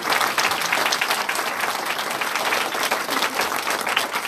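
Audience applause at a live mediumship show in Salon-de-Provence, a full, sustained burst of crowd clapping that stays dense and steady from start to finish.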